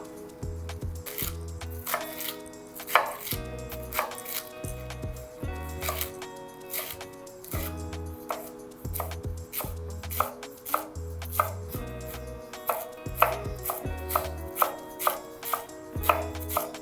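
A knife chops vegetables for a falafel salad on a cutting board in quick, rhythmic bursts of sharp taps, close and clear, with short pauses between runs of strokes.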